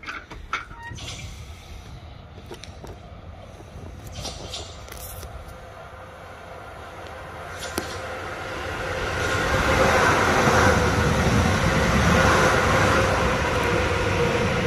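A train passes on a railway line beside a long family cycling ride, its rumble swelling from faint and distant to a loud, steady roar in the second half, with no talk over it.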